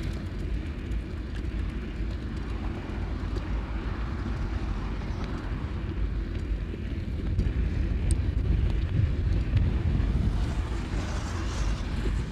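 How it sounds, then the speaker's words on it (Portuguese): Strong headwind buffets a microphone while cycling along a road in João Pessoa, Brazil, a continuous low roaring rumble that swells slightly toward the end, with no voices. "Olha esse vento contra aqui"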